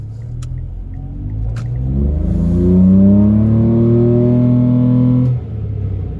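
A 2017 Mitsubishi Mirage engine revs up steadily at about three-quarter throttle, its pitch climbing through the gears with a throaty intake drone, then easing off near the end.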